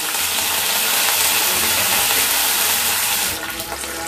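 Green chillies and curry leaves fry in hot oil for semiya upma. The close, loud sizzle holds steady and eases slightly near the end.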